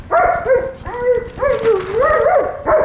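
A corpse-sniffing dog gives repeated whines and yelping barks in close succession, loud and near, with short pauses between bursts.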